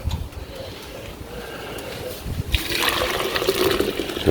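Water is poured off a pan during gold washing from ground-up fingers, starting as a faint trickle and swelling into a fuller, close splashing pour in the second half.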